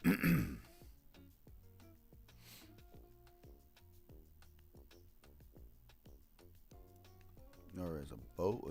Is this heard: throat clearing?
yes